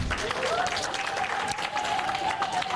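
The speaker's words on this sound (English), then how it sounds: "Can you clap for her?" A crowd at a women's rights convention applauds a Supreme Court justice, dense moderate clapping with a sustained whistle-like tone above it, heard from within the hall.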